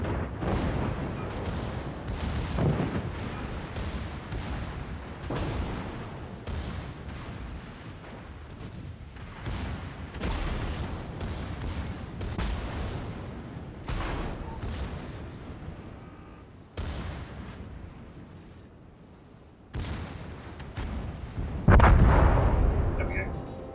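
Naval video game battle with torpedoes striking a ship, a continuous barrage of booming blasts and rumbling impacts, loud and close, ending in a heavy explosion, with a player talking over some of it.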